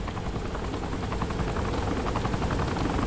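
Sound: helicopter in Saints Row 3 video game

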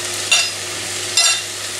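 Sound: frying teriyaki chicken legs and vegetables in a pan

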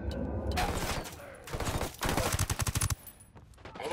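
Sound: gunfire in the video game Ghost Recon Wildlands

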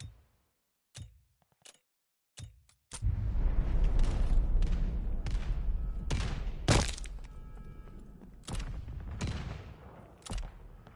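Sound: grenade explosion in the video game Call of Duty: Vanguard

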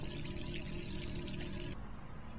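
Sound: water running from a tap in Resident Evil 3 video game

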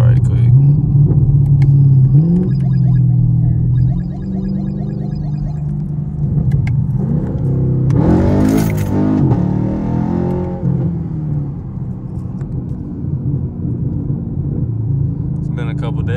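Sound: Chevrolet Camaro SS engine accelerating during a hard pull

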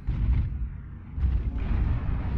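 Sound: enemy mechs shooting in video game MechWarrior

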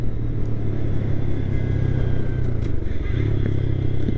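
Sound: 2025 Honda Grom motorcycle riding

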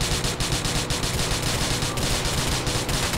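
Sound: gunfire shooting at a fleeing car's tires

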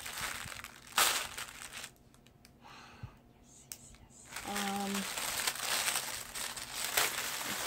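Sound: cutting open keyboard delivery package

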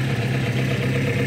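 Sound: vintage Volvo car engine idling through exhaust

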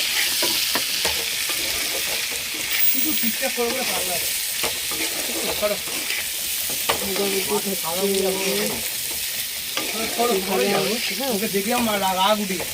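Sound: potatoes frying in a pan

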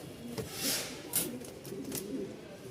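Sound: male Giribaz pigeon cooing

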